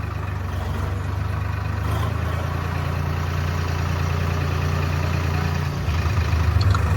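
A tractor hitched to a trolley idles in a village, its diesel engine a steady, close, low throbbing hum that runs unbroken, shifting slightly near the end.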